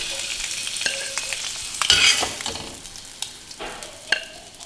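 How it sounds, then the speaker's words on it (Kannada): Egg curry masala stirred and frying in a pan, with a steady sizzle under repeated scraping and clinking of a spoon against the pan, close up and with no voices. "1 ನಿಮಿಷ ಇದನ್ನು ಮಿಕ್ಸ್ ಮಾಡ್ತಾ ಬೇಯಿಸ್ಕೊಂಡ್ರೆ ಸಾಕು."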